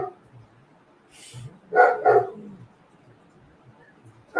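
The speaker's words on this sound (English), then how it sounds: "she's barking from the bedroom right now" A dog barks from a bedroom in another room of the house: two quick, muffled barks in close succession, then near silence.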